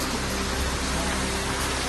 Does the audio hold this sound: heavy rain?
yes